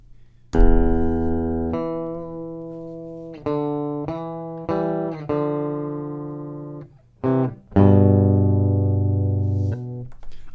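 Playback on an MPC Live of guitar notes recorded through a Hosa Sidekick DI box: a handful of clean, sustained single notes with brief gaps between them, heard alone and clearly.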